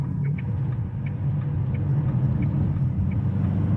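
A Dacia Duster drives on the road while changing direction, its engine and tyre rumble a steady, close, low drone inside the cabin.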